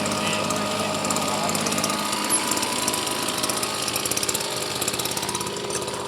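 A road marking machine running, a steady loud mechanical drone with a rattling, knocking texture that holds constant throughout.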